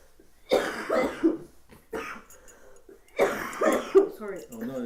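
Two close bursts of harsh coughing with throat clearing, separated by a short quiet gap, with a voice mixed in among them.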